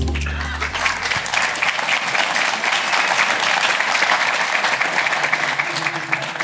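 An audience claps for a speaker at the Mage Titans 2023 developer conference, dense even applause holding steady throughout, with a brief low hum at the very start.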